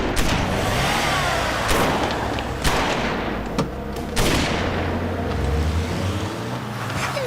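Bursts of gunfire ring out in a French police action video game, with sharp reports scattered over a steady, loud background rumble of engines and battle noise, no voices.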